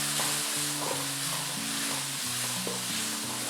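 Crushed garlic sautéing in a pan for spicy garlic rice: a steady hiss of frying with a low tonal hum and regular soft stirring scrapes, no voices.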